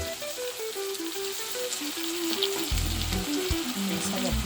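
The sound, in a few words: coconut milk added to hot pan for rundown mackerel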